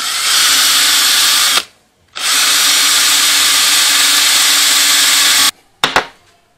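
Power drill boring a hole through a butter knife being made into a spoon bait, a loud sustained whine in two long bursts separated by a short pause, then a few quick stop-start blips, no talking.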